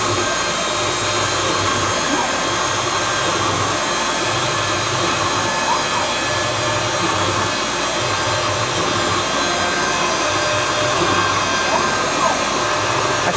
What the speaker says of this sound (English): we've got our V-carving bit in here now to spot all the centers for each of these holes